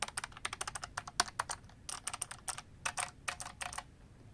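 Rapid, crisp clicky keystrokes on a Keychron K5 ultra-slim mechanical keyboard with blue switches, close up and alone, in quick uneven bursts with short pauses.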